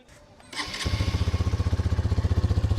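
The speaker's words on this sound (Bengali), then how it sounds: "এটা হচ্ছে বাইকের এক্সস্ট নোট এবং এটা বেশ স্পোর্টি একটা সাউন্ড দিচ্ছে" A Hero Xtreme 160R 4V motorcycle engine fires up after a quiet moment and settles into a loud, sporty, throbbing exhaust pulse with a steady rapid rhythm.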